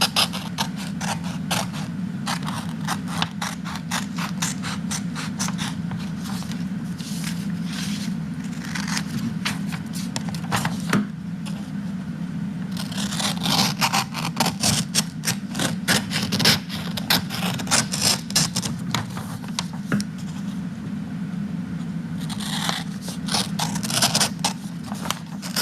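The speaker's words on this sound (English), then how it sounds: "Try to cut it as straight as you can." Scissors cut through folded paper along creased guide lines, a steady run of close, crisp snips and scraping paper rustle over a low background hum, with no talk.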